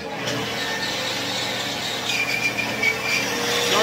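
A loud, steady whirring roar from a disc sander shaping a piece of cherry wood, continuous throughout, with a faint higher whine as the wood presses against the disc and no talking.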